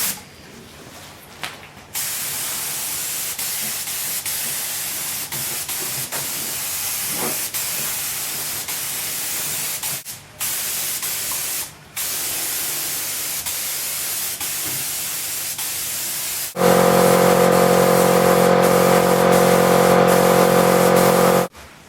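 Spray painting a BMC Wolseley Farina 24/80 engine bay during restoration: a long, steady aerosol hiss runs almost continuously with brief pauses between bursts, close and loud, ending in a louder hum.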